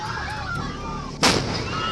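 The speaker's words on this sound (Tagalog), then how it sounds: "isang tangke naman ng acetylene gas ang sumabog mula sa isang nasusunog na bahay" An acetylene gas tank explodes in a burning house: one sudden sharp blast cuts through steady roaring fire noise and lingers briefly.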